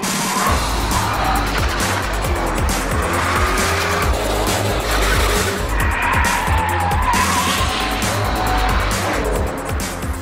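A Ford Shelby GT500 Mustang is driven hard, its tires squealing and skidding in long, loud shrieks over a constant close engine roar, with no talking.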